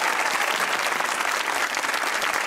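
A studio audience at a comedy talk show claps in a dense, steady burst, loud and close throughout.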